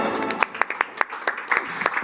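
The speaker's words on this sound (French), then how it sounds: "On s'applaudit." A small group of live-stream hosts clap for themselves at the end of a tech news segment, giving sparse, distinct claps spread out over about two seconds, fairly close and moderately loud.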